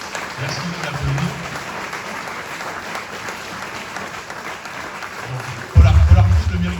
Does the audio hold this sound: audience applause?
yes